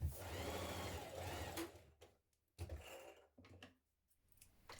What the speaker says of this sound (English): we can just stitch across that bottom bit and baste it